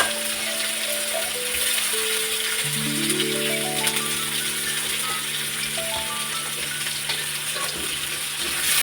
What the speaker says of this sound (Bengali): এই তো পেঁয়াজটা দেওয়া হয়ে গেল এখন একটু লাল লাল করে ভাজা করে নিয়ে